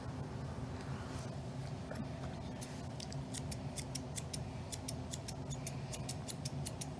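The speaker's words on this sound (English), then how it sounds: "you can go through with your regular scissors, your shears, and just kind of give it a more defined line" Scissors trim the long coat of an English Springer Spaniel, giving a quick, regular run of crisp snips over a steady low background hum.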